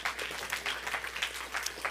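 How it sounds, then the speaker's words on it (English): A church congregation at a children's ministry service applauds, a steady, soft wash of clapping hands at moderate distance, even and unbroken with no talking on top. "Can we give him an applause for that?"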